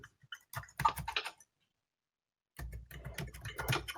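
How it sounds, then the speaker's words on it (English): Rapid keyboard typing in two bursts, close and clicky, separated by a couple of seconds of silence. "I hear Gilles typing."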